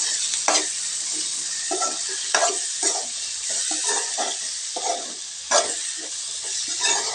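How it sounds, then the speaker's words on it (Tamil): Small tomatoes sauté in a frying pan with spices for a boneless goat head fry, giving a steady close sizzle broken by repeated scraping stirs. No voices are heard. "இப்போ இந்த தக்காளியும் நல்லா வதங்கி வருதுங்க."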